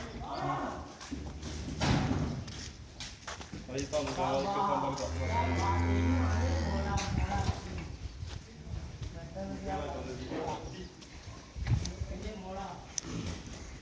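Cattle on a farm house, with a low mooing call rising over steady farmyard noise and people talking nearby for most of the stretch.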